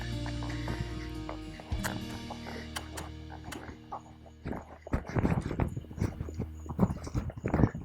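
Rhythmic hoofbeats of a horse trotting, close and clear, picking up into a steady quick clip-clop after a quieter start.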